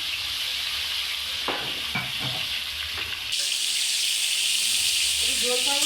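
Pointed gourd (potol) frying in a pan on a gas stove: a steady, close oil sizzle with a few scraping stirs in the middle, and the hiss swells brighter and louder toward the end.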